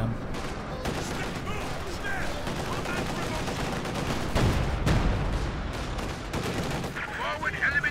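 Rapid gunfire and bursts of fusillade in the strategy video game Company of Heroes 2, dense and overlapping throughout, with game voices faintly mixed beneath the shooting.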